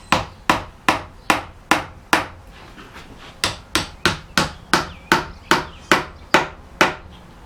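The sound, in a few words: tapping wooden wedge with a hammer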